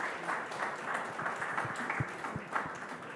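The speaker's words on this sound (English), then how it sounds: "a huge round of applause for the team of Bukhara" Audience applause at a televised food awards ceremony for a restaurant team, a moderately loud wash of clapping with a few sharper individual claps standing out near the end.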